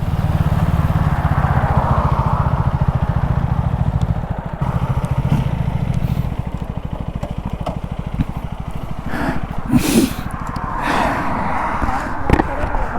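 A 2025 Hero Xtreme 250R and a KTM Duke 250 race side by side on a road, a loud steady engine drone with wind buffeting the microphone and brief rises in revs, and voices talking over it.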